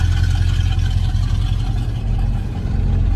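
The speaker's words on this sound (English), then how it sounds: "Listen to them Flowmasters. Oh, that baby sounds good." A square-body truck engine with Flowmaster exhaust and Holley Sniper EFI idles with a deep, steady, loud rumble heard up close, with no voices.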